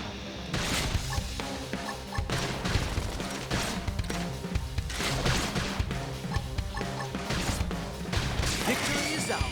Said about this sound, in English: Now, if we can just Kill them with gunfire!